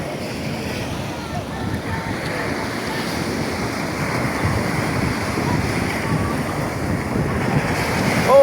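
Night surf at Sugandha beach, Cox's Bazar, rolls in as a steady churning roar that swells toward the end as a wave washes closer, with wind buffeting the microphone.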